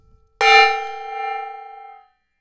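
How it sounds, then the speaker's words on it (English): A gong is struck once in a room, giving a bright metallic clang that rings out with a shimmering, slowly swelling sustain before fading after about a second and a half, heard alone. "see what the gong sounds like in this room."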